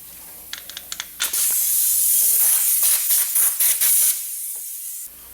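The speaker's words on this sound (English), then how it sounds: "And then you take a blow nozzle" A blow nozzle fed by compressed air cleans around the injector lines of a VW ALH TDI engine, a few light clicks first and then a loud, steady hiss that lasts about three seconds before it cuts off.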